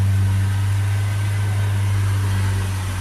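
A Renault Trafic 1.6 diesel engine with a preheating unit and particle filter fault is held at a steady 3000 RPM, giving a constant, droning hum with a strong low tone and broad mechanical noise.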